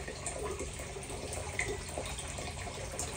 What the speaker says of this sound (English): See it down there trickling in?